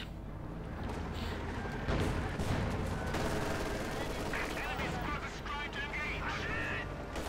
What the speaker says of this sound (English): Pentamark machine gun on the way there for the Panther.